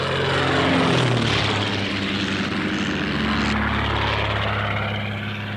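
A propeller airplane flying overhead, a loud droning engine with a steady low tone that shifts in pitch as it passes, alone without voices.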